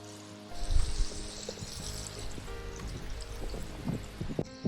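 Water pours and splashes onto soil in a garden bed before a mulch of ramial chipped wood is laid, a continuous close trickle with small gurgles and no voices.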